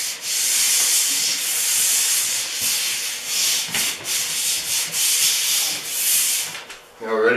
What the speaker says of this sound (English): Just a light sanding, very,